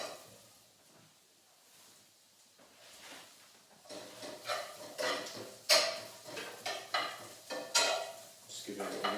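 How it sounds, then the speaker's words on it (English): Onions and garlic heating for a meat and fish paella are pushed around a pan, a quiet start giving way to louder rhythmic scraping and clinking strokes with a light sizzle underneath. "Just give it a little whiz around the pan."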